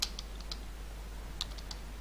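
Light typing on a computer keyboard, a few sparse, faint key taps in two small bursts over a low steady hum, with no talking.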